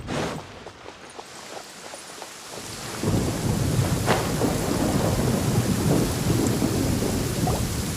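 A thunderstorm in the video game Genshin Impact: a soft patter of rain gives way to a loud, steady downpour with rumbling thunder that continues to the end. No voices are heard.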